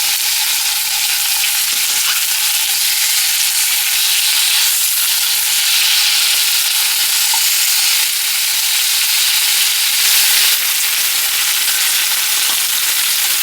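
Chicken pieces for coq au vin fry in a pan with a steady, loud bright sizzle and hiss that carries on throughout, occasional faint clicks of turning, and no talking.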